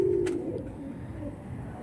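A male Lambari breed pigeon gives a short, low coo at the start, close and fairly loud, followed by a soft ambient rustle with no other calls.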